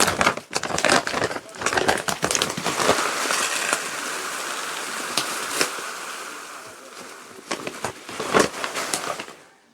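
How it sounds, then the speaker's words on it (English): Perlite poured into a homemade coir seed starting mix, a rushing, crackly hiss of light granules with scattered pattering bursts, close and fairly loud, easing off partway before a final flurry. "Now we'll add 1 part of perlite, and then we'll add 1 part of vermiculite."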